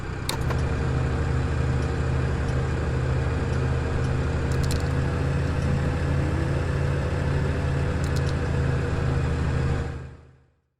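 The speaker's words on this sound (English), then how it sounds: "At low RPM, we can hear the exhaust flappers striking the top of the pipe, which is used to keep rain out of the exhaust." Steady low-RPM idle of the Black Square Starship turboprop engine in Microsoft Flight Simulator, a constant drone with loose exhaust flappers tapping against the top of the pipe, running alone for about ten seconds before cutting off abruptly.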